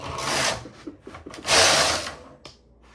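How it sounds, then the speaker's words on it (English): A knitting machine carriage slides across the needle bed with no yarn, dropping the stitches in two loud rasping sweeps separated by softer clicks and clatters. "if you just push the carriage with no yarn in it, it's gonna drop all the stitches"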